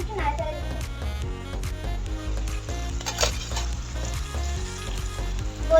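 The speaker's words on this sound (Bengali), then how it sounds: "এখন একটু নাড়াচাড়া দেব।" Mutton rezala sizzles and fries steadily in a pan while it is stirred, with occasional scraping of the utensil against the metal, close up and fairly loud throughout.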